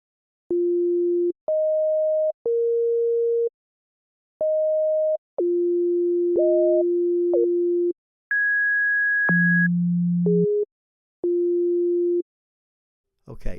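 An Arturia Pigments generative synth patch plays a steady sequence of pure, sine-like tones that step between pitches with small glides, one held high note and a lower buzzy note, each tone separated by short gaps.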